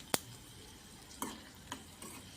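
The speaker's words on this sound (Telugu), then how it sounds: "ఇవి కొంచెంగా వేగుతున్నాయి" Tempering spices fry in oil for spinach dal: a faint, quiet sizzle broken by a few sharp taps of a stirring spoon against the pan.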